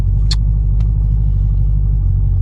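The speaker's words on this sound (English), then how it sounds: "I'm hoping the exhaust isn't too loud." Cabin of a modified 2017 Chevrolet SS with an A8 automatic making over 1000 hp, its exhaust a steady, loud low drone at cruise with no pronounced revving, heard alone.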